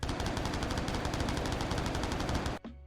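AK-107 rifle firing in the video game Stay Out, a fast continuous automatic burst of evenly spaced loud shots lasting over two seconds, then an abrupt stop with a short metallic tail.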